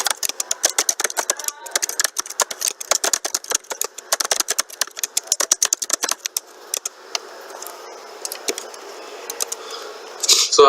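Rapid clicky keystrokes on a computer keyboard, fairly close and busy in uneven bursts, then thinning out into a steadier hum with a few scattered taps near the end.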